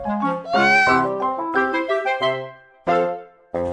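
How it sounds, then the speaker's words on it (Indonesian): Cat meowing up close, a long drawn-out wavering cry followed by shorter mews and two brief final calls, loud and clear with no talking over it. "Kucing?"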